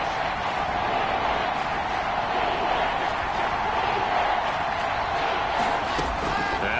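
Ahead of a big third down in a PlayStation 4 football game, a stadium crowd keeps up a loud, steady roar of cheering that holds evenly throughout.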